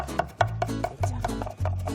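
A knife minces garlic on a cutting board with quick, regular chops, a few strikes each second. The chops sound fairly faint over a low, humming background.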